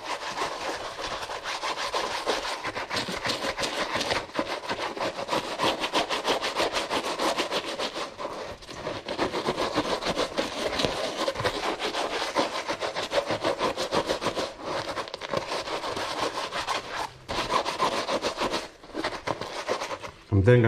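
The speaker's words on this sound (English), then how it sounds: "I'm gonna continue scrubbing." A shoe's upper is scrubbed with cleaning solution, likely by brush, in a close, steady, continuous rhythmic rubbing that runs for about twenty seconds with only brief pauses.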